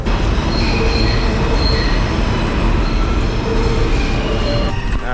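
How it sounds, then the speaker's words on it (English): A New York F subway train rumbles loudly and continuously from inside the car, with steady rail noise, faint squeals and a brief clatter near the end. "We're in the F train now."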